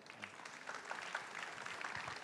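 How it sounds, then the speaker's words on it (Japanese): Quiet audience applause for a finalist at the Japan Brewers Cup coffee brewing competition, a soft, even patter of clapping heard from a distance. "もう一度川野辺選手に拍手を"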